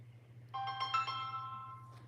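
A phone ringtone chimes in a bright melodic burst about half a second in and rings on to the end, over a steady low electrical hum, with no talking.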